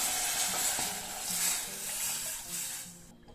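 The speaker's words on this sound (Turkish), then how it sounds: "Bir yemek kaşığı domates salçamı ekledim. Hep birlikte çeviriyorum." Tomato paste stirred in a cooking pot for noodle soup, a steady close scraping and sizzling texture with soft rhythmic spoon strokes, running alone without talk and cutting off abruptly at the end.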